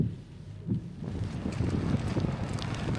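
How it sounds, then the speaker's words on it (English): Strong wind buffets the microphone in heavy, rumbling gusts, building after a brief lull and roaring continuously up close. "It's very windy and very rainy."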